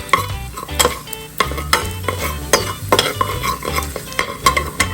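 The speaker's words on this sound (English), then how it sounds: "I got some bacon that I'm here rendering down." Bacon rendering down in a pan, sizzling and crackling steadily while a utensil stirs and scrapes through it in irregular clanks, close and fairly loud with no talking.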